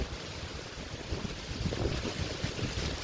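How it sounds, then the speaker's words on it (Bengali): Gusting wind buffets the microphone over a rough, rushing wash of storm rain among mango trees. "পুরা বৃষ্টি বাতাস"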